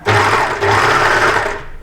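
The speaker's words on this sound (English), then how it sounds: "I'll be sewing along that line" An overlocker sewing machine stitches T-shirt fabric in a loud, close, continuous whir, pausing briefly once before running on and winding down.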